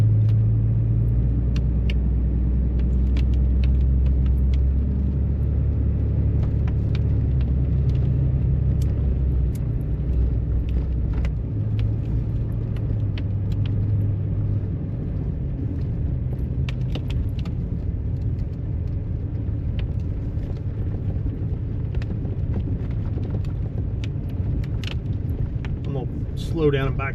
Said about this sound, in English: I'd rather just be in 4-wheel drive and keep moving.